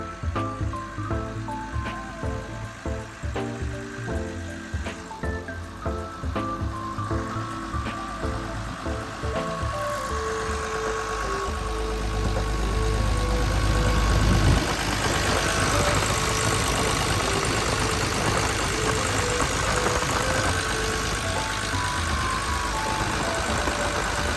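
A Kobelco SK210LCD-6ES excavator with a Mitsubishi 6D34 turbocharged six-cylinder diesel engine runs nearby, a steady loud drone that thickens and grows louder partway through, with no one speaking.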